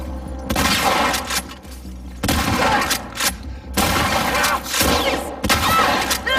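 Shotgun fire in the video game The Last of Us Part II: loud, heavy blasts come in repeated bursts, each ringing out before the next volley, with a brief break between them.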